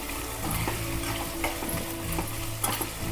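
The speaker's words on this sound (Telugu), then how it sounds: "నూనెలో వేయంగానే మనకి జిగురు అంతా పోతుంది ఇట్లా మంచిగా ఫ్రై కావాలి" Taro root pieces sizzle steadily in hot oil as they fry for a tangy curry, a dense, continuous crackle with brief scraping stirs, close and loud throughout.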